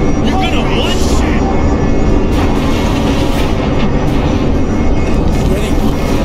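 In Crysis 2 Remastered, a VTOL aircraft engine drones as a heavy, continuous, rumbling roar, loud and close, with voices talking over it.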